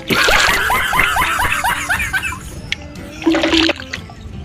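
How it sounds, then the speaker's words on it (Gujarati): Water glugs into a bottle in quick rhythmic gurgles that fade out, followed by a short splashy burst, heard up close. "સાફ પાણી ભરી લઈએ આપણે બાટલ ભરાય પછી"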